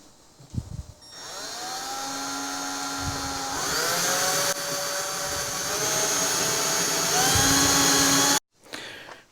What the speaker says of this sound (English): Okay, so I've got my holes drilled here